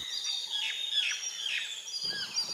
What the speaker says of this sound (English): Most obviously, ringneck parakeet.